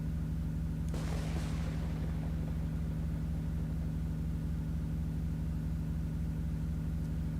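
A vehicle engine in the video game Tornado: Research and Rescue, a steady low droning hum with a regular pulsing rhythm that holds throughout, briefly overlaid by a short hissing burst of noise near the start.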